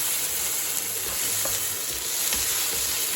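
Chilli beef frying in oil sizzles steadily outdoors, a dense broadband hiss with a few soft scrapes from stirring, close and continuous with no voices.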